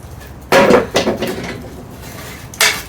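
Several sharp metallic clanks and scrapes as nails are pulled from barn wood with a hammer, a loud burst followed by a few smaller knocks, then another sharp strike near the end.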